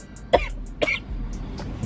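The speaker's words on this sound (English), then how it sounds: "Oh, is that a cough?" Two short, sharp coughs close by, about half a second apart, against a quiet background.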